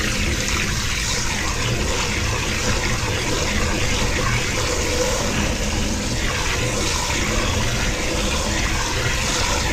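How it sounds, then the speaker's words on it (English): Steady rushing of cold water pouring continuously into a pot, a broad even splashing roar with no talking. "Cold water, so I'm just going to add that in there."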